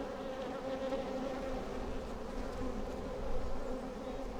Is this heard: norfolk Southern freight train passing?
no